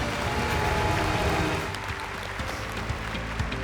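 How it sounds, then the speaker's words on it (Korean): Audience applause at a 2024 small-business audition final and award ceremony in Korea as a grand prize winner is announced, a steady dense wash of clapping that holds loud through the clip and eases slightly past the midpoint. "큰 박수 부탁드리겠습니다"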